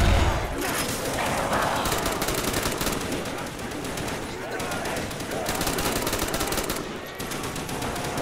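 Sustained automatic fire from an upgraded HK gun in a zombies shooter game, loud rapid bursts with only brief gaps, continuing throughout over busy game noise.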